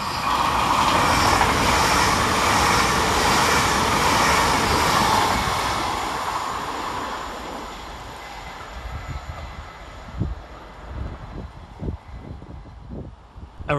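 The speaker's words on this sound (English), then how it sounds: "Going the opposite way for Transpennine Express is 802208, working 9 Mike 18 from Newcastle to Liverpool Lime Street." A TransPennine Express class 802 train, unit 802208, passes through Patricroft station on a Newcastle to Liverpool Lime Street service, a loud sustained rush that fades over several seconds, leaving quieter clunks and rattles near the end.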